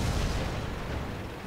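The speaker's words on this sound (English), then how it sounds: "Explosions." Explosions rumble through a tank battle video game in a brief, dense, booming blast with a thick low-end roar that stays steady and loud throughout.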